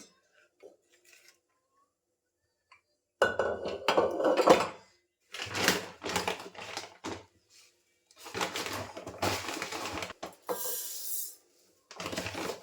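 A pressure cooker being taken out among pots and pans in a home kitchen, with loud bursts of metallic clattering and clinking separated by quiet gaps.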